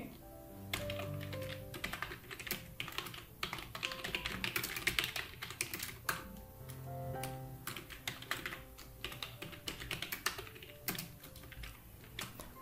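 Computer keyboard typing runs steadily for the whole stretch, dense key clicks at a close, moderate level while soft background music plays underneath.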